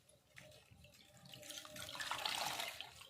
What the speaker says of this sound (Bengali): সুতির কাপড়টি যে ভিজিয়ে রেখেছি একটু নিংড়িয়ে নেব